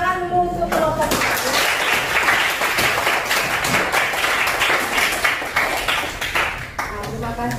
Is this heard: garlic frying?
no